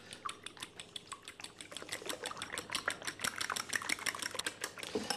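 Two forks beat eggs for a frittata, tapping against the bowl in a fast, steady run of light clicks that grows a little louder and denser, heard close with no speech.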